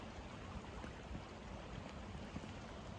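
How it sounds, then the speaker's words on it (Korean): Water flowing in a stream at night, a continuous broadband rushing murmur that stays steady and close from start to end, with no other sounds standing out. "근데 이 물소리가 너무 좋아."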